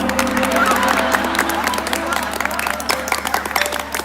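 A crowd applauds, with scattered clapping and background chatter mixed in.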